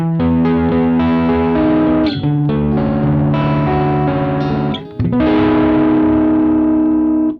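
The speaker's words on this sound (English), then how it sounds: "you can hear a bit more distortion" Heavily distorted electric guitar through a Surprise Sound Lab Rock Block distortion pedal, playing sustained chords and riffs, loud and continuous, with a brief dip before ringing out again.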